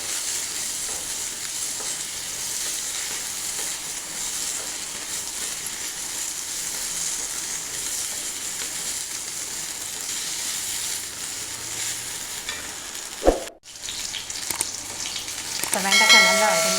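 Okra sautés in a pan with hot oil and mustard seeds, giving a steady, close sizzle throughout. A sharp clatter comes near the end, followed by louder stirring and frying.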